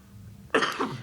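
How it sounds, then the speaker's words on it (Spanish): A sudden single harsh cough from a woman bursts out after a short stretch of near silence, loud and close, with no talking. "Es que me ha dado la tos."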